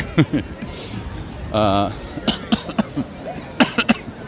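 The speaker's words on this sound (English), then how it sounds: "Sorry for my cough." A single short cough cuts through ongoing speech in a noisy indoor setting, with the voice continuing around it.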